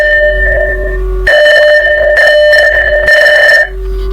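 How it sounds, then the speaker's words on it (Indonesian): Repeating electronic alert tone from a web-based network logging system flagging a firewall intrusion, a steady beeping pattern in several bursts, loud and alone. "Makanya tadi bunyi alert seperti ini."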